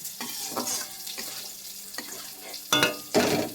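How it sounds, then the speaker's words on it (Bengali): Pointed gourd pieces being stirred in a hot pan, a soft steady sizzle of frying broken by several scraping stirs, with louder clattering stirs near the end; no talking. "এবার নেড়ে চেড়ে একটু সামান্য জল দিয়ে দেবো"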